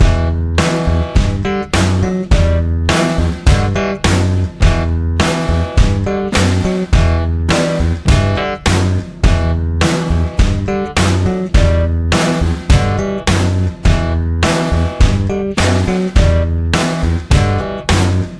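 Driving kick and snare drum beat played over a full backing track, steady and loud with a regular rock groove throughout.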